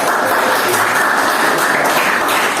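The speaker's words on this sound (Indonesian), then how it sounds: "big applause for yes" A classroom full of students breaks into loud, dense applause that holds steady from start to finish, with no voices rising above it.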